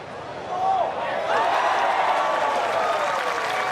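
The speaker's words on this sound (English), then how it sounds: "Nothing like hearing that roar. Big crowd is gathered here around the 18th" A large golf crowd around the 18th green at an LPGA tournament, the Meijer LPGA Classic, bursts into sustained applause and cheering, with whistles rising over a dense, steady roar of clapping.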